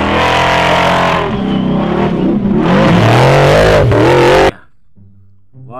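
A toy off-road car plays a loud electronic engine-revving effect with rising and falling pitch and tire-squeal-like sweeps, close up, cutting off abruptly before a faint tail of sound.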